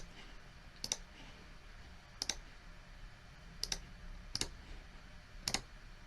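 Five sharp, separate clicks of computer keyboard keys, spaced about a second apart, as a word guess is typed into a Wordle game; close and crisp over a quiet background hiss.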